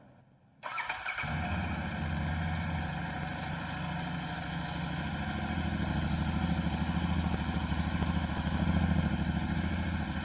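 A cold Royal Enfield Continental GT 650 twin fires up after a brief silence, then settles into a steady, close, throbbing idle that grows slightly louder and fuller over several seconds.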